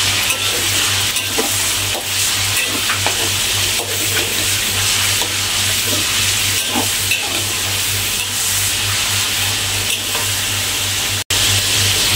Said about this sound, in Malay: gorengkan ayam ni